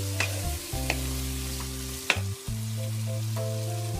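Kebabs sizzle in a pan of spiced masala, a steady close frying hiss broken by a few sharp stirring clatters, with no voices.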